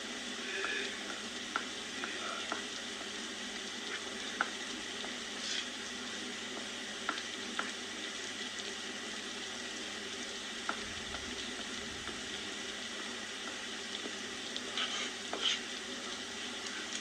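Atta halwa cooks in a pan, giving a soft, low sizzle as it is stirred. A scattering of small scrapes and clicks from the spoon sounds over a quiet background, and nobody talks.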